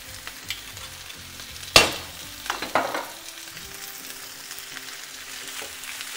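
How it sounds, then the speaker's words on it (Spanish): Vegetables sizzle steadily in olive oil in a pan, with a sharp clatter and a few scraping stirs of a utensil near the start, then an even frying hiss, up close. "Procedemos a revolver."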